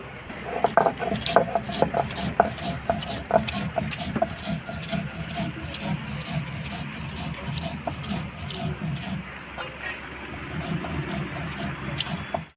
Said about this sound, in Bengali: শুকনো লঙ্কা কাঁচা লঙ্কা আর জিরে একসঙ্গে বেটে নেব